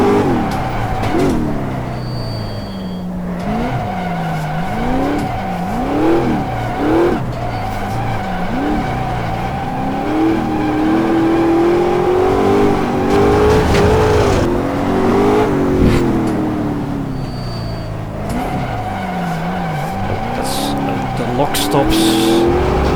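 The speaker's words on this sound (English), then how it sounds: "It's a little scary in fourth gear to start power sliding, unless you're at really low speed like this." An Ultima GTR power slides at low speed, its engine revving and dropping as the tires squeal in long wavering screeches. Someone talks over the close, loud car throughout.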